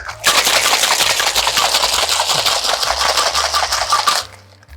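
Ice rattling hard inside a cocktail shaker during mixing of a Gin Daisy, a loud, dense, rapid clatter that runs steadily for about four seconds and then stops abruptly.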